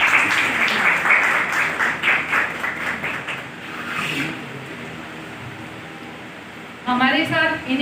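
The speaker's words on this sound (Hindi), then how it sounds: "मैं चाहूँगी एक बार जोरदार तालियों से इनका स्वागत करें।" An audience claps loudly to welcome a guest at a clinic inauguration, a dense burst of applause that fades out, followed near the end by a voice speaking.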